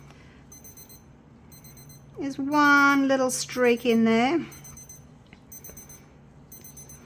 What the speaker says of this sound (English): Timer's going off.